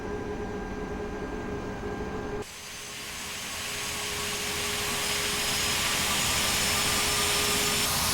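A Ka-50 helicopter in the DCS flight simulator whining steadily as its engines and rotor spin up, a continuous broadband roar that shifts after a few seconds and then slowly rises in pitch and strength, with no talk.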